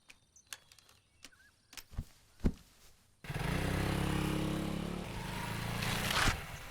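A motorbike starts and rides off after a few scattered knocks and clicks, its engine a steady, fairly loud drone that holds for several seconds with no talk over it.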